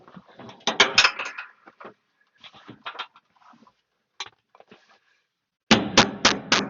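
Metal-on-metal hammer taps driving a screwdriver into a slightly stripped screw on a 1949 Chevy truck, a burst of sharp close strikes, scattered single knocks, then another quick run of four blows.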